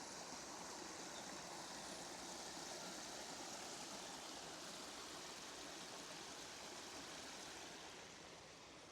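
Arrowe Brook flowing beside a residential woodland path, a steady, soft rushing and trickling of water that continues unbroken throughout, fairly distant and even.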